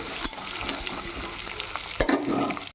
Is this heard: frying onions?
yes